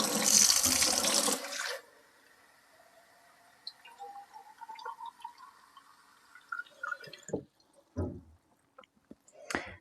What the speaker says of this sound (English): This water comes from the spring up on the hill that you just saw.